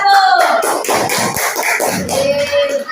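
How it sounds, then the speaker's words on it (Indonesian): A class of students claps together for group 1 in a classroom, a short burst of quick overlapping hand claps close by. "Tepuk tangan untuk kelompok 1"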